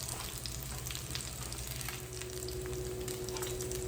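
Salmon skin crisps in a hot pan, a dense, even sizzle of frying fat that stays loud and unbroken throughout, with a low steady hum beneath and no voices.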